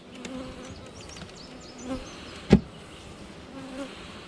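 Honeybees buzzing around an opened backyard hive during a frame check, a continuous close drone with a few louder passes as individual bees fly near, plus a brief knock of handling.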